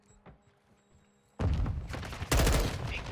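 An RPK machine gun fires long, dense bursts in Call of Duty MWII multiplayer, loud and close, starting abruptly after a quiet stretch of faint game ambience and light thumps.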